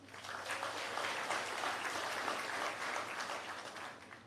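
Gentle, steady applause from an audience at a State of the Nation event honouring Cherokee pageant winners, a continuous soft patter of many hands without a break.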